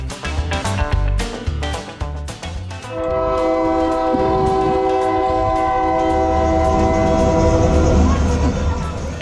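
A train passes in Tucson, its horn blowing a long, loud chord after a series of rhythmic clanks and rattles, with the wheels rumbling steadily underneath as it goes by.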